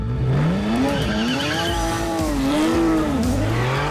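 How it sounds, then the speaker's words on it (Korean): A powerful Porsche 911 engine revs loudly, its pitch climbing and dipping in repeated surges, close and alone without any talk. "시동 걸고 뜨거운 엔진 소리, 절로 나오는 감탄."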